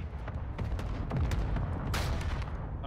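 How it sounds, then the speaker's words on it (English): A mortar barrage and airstrike in an online shooter game land as a dense, rumbling run of rapid explosions and blasts with no pause. "Oh, dude, mortar and airstrike"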